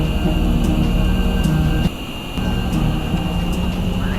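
Simulated airliner in the SimplePlanes video game, a continuous loud engine roar with tonal whine that drops out briefly near the middle before resuming, punctuated by faint periodic clicks.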